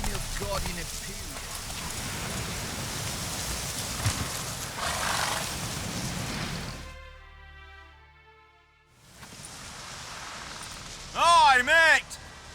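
Hoofbeats of Geralt's horse Roach galloping in The Witcher 3: Hearts of Stone, steady clip-clop under rain and ambient noise, fading out briefly before resuming, with a voice talking near the end.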